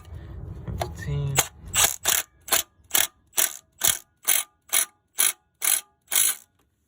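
Ratchet clicks as a mechanic tightens the oil pan bolts on a 1995 Plymouth Voyager, about a dozen evenly spaced, sharp close-up ratcheting strokes in a steady rhythm after a brief muffled fumbling start.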